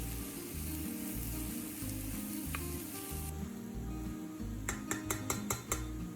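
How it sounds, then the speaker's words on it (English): Sliced mushrooms and onions sizzle softly in a hot pan with a steady frying hiss, then a quick run of light clinks from a utensil against the pan near the end. "As soon as they touch the pan, you'll hear that gentle sizzling sound."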